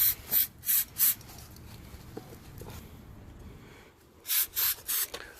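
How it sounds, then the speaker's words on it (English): Brake cleaner sprays in short bursts onto the muddy driveshaft of a first-generation Toyota Tacoma. Three quick hissing blasts come first, then a steadier scrubbing stretch, then three more close, loud bursts. "brake cleaner to break the mud or the crud"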